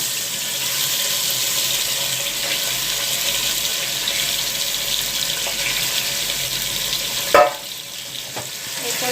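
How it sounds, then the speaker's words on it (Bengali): Fish rubbed with salt, turmeric and mustard oil fries in hot oil, a loud, dense, steady hiss with a brief clatter near the end. "নুন হলুদ আর সর্ষের তেল মাখানো মাছগুলো এই তেলের মধ্যে আস্তে আস্তে দিয়ে দেওয়া হচ্ছে"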